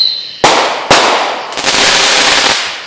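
Firework artillery shells burst in a loud outdoor display, with two sharp booms in quick succession followed by a rolling, crackling report that trails off.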